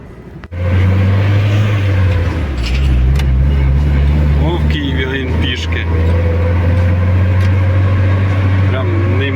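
A container-hauling truck's engine drones steadily while driving, loud and continuous with a low hum throughout, as someone talks over it.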